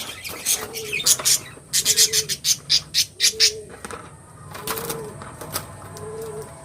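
A male budgerigar chatters in quick bursts of sharp, squawky chirps, with a soft low cooing tone recurring at regular intervals nearby.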